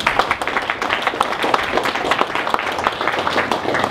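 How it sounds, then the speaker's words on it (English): An audience claps at a ribbon cutting for a solar project in Lake Havasu City, a dense, close round of applause that holds steady for the full few seconds. "Let's give ourselves all a round of applause."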